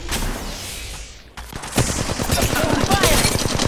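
Automatic weapon fire in the mobile battle royale game Apex Legends Mobile: a fading whoosh, then a sharp impact followed by dense, continuous rapid shots rattling loud and close.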